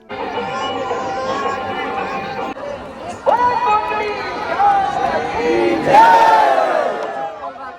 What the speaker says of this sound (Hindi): उस समय मंदिर बंद था, इस वजह से श्रद्धालुओं की यहाँ पर बहुत ज्यादा भीड़ जमा हो गई।